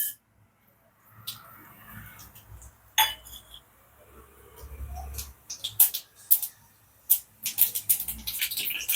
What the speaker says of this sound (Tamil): கடுகு நல்லா பொறிஞ்சிருச்சு